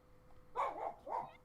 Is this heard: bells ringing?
no